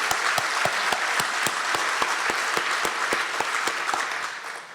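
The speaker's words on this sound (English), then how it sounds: "Join me to applaud Steve and Denise Smith." An audience at a naming ceremony for a student athlete performance center gives a steady round of applause, dense clapping with distinct sharp claps standing out, tapering slightly at the end.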